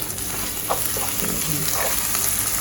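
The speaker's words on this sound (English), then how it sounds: "And then now you fry the saltfish. You want the saltfish flavor." Saltfish frying in a pan with scallion for ackee and saltfish, a steady loud sizzle with a few soft stirring scrapes, no talking.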